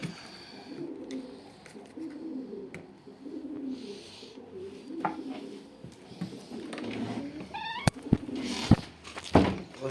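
Pigeons coo softly in a coop, low murmuring calls repeating through most of the stretch, with a few sharp knocks and clatters near the end.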